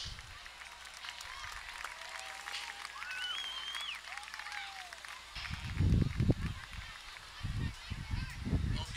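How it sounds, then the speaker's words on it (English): A crowd at a SACS versus Central Catholic game applauds for the SACS Lion Band, a diffuse wash of clapping with a few high whistles, then heavy low thumps and rumbling take over near the end. "let's have a nice round of applause"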